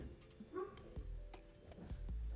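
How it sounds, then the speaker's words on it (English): Dogs guarding a home yard give a few short, faint yips and barks, sounding some distance away against low background noise. "That's our dogs protecting our property"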